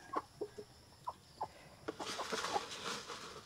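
Dominant CZ and Rhode Island Red chickens cluck softly while feeding on a Cebu poultry farm, scattered short clucks at first, then a busier overlapping flurry of clucks and scratching.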